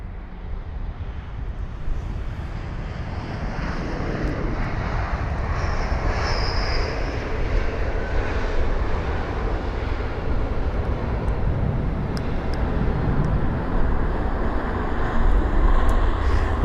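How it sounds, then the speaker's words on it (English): Airliner rolling along the runway at London Heathrow, a loud continuous jet engine roar with deep rumble that swells slightly, and wind buffeting on the microphone. "just zooming out now whilst that aircraft vacates off the runway"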